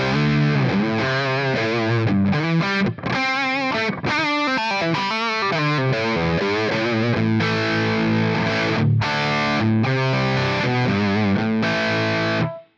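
A heavily distorted electric guitar runs through an Amplitube 5 Dual Rectifier amp simulation, playing loud, compressed chugging riffs and sustained chords with brief gaps, alone without talk.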